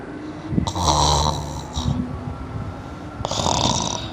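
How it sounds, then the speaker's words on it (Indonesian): Two loud, close snores from a sleeping person, each a long rasping inhale with a rough, rattling texture, separated by a brief quieter pause. "ada suara orang lagi tidur ya adik-adik, lagi ngorok"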